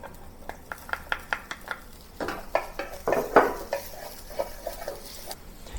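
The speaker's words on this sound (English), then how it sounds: "heat it up, and then saute the minced garlic and ginger" Minced garlic and ginger frying in hot oil in a pan for a chicken sauce, with a light sizzle under a steady run of scraping and clinking as a utensil stirs against the pan.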